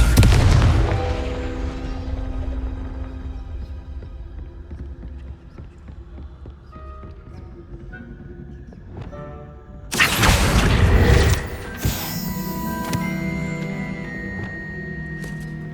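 The Confringo fire spell in Hogwarts Legacy on PS5 opens with a loud booming blast that rumbles away, then a second explosive burst bursts out around two-thirds through, followed by lingering magical ringing tones.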